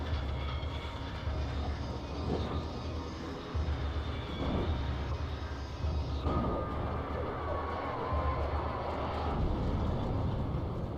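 A helicopter in the video game Alan Wake drones steadily with a low rotor and engine rumble, a distant loud whir that shifts slightly in pitch over the span.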